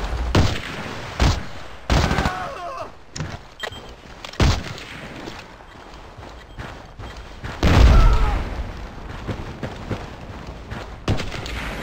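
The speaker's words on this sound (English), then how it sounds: "There's a guy shooting at you." Gunfire in a shooting video game, with loud bursts and single booming shots scattered irregularly, the heaviest volleys near the start and again partway through, set against a constant noisy background.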